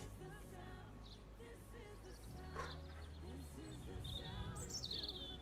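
Game bird chirps from the indieVelo cycling video game come as quiet, high, intermittent tweets over a low background hum, with what sounds like soft talk underneath.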